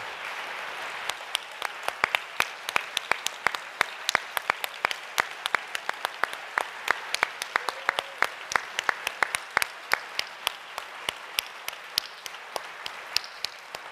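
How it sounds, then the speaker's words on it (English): A large audience applauds students who have stood up at a university gathering, a steady dense wash of clapping with sharp individual claps standing out, sustained throughout. "Could you please stand so we can give you a round of applause?"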